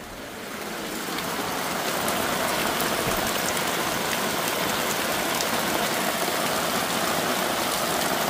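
Steady, dense rain pours down on a mountaintop, building over the first second or two into a constant loud hiss that continues without a break and with no voices.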